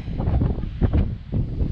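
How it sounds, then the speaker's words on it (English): Strong wind buffets the microphone on a bare, rocky mountain summit in the Adirondacks, a steady close rumbling roar with gusty swells throughout. "It's actually really windy up here"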